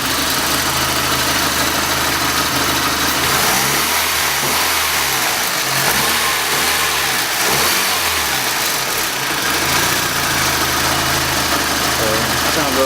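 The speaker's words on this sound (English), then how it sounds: "Let me give it a quick rev here so you can hear how it sounds." A Mitsubishi Lancer Evolution V (EVO5 CP9A) engine idling then revving several times, loud and close with a rumbling drone swelling and falling in repeated blips over a steady mechanical hiss.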